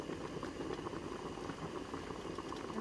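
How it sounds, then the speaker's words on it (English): A pot of Mexican seafood soup bubbles at a steady, low rolling boil over medium heat, a soft continuous burble with faint rattling, heard close and fairly quiet. "I boiled this on a medium heat for about 10 minutes"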